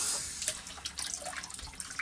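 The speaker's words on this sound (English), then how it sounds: "I'm going to add a little bit of water, just a tiny bit, just to help with those peas" Water poured from a tap into a pan of chicken curry with peas, a steady close splashing rush with small spattering bursts, no talking.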